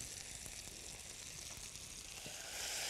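Salted, skin-scored duck breasts fry in a pan with a close, steady crackling sizzle of spattering fat, holding even and growing slightly louder at the end.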